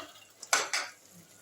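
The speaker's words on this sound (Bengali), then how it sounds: "মাছগুলোর সঙ্গে একটু ঝোলে মাখামাখি করে দিচ্ছি" Fried fish tossed through gravy in a pan for a mango fish curry: two close, distinct scraping strokes of a utensil against the pan in a quiet kitchen.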